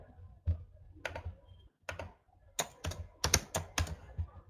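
Computer keyboard typing, close and crisp, with irregular clusters of keystrokes that thicken into a quick run toward the end.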